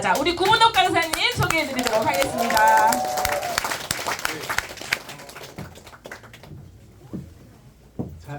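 An audience at a business presentation bursts into warm applause as a speaker is introduced, loud clapping that fades over several seconds while a host talks over it through a microphone.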